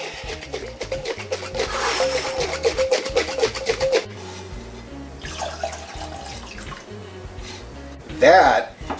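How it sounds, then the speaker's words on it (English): Buttermilk sloshing inside a jar as cream is shaken by hand into cultured butter, a wet rhythmic splashing that comes and goes, with a voice speaking over it. "That's the sound of our buttermilk."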